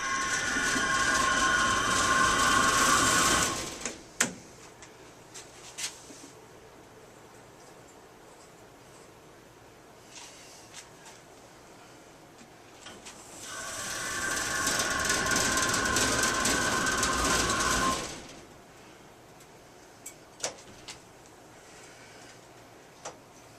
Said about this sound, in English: now I'm going to bring the elevator back down.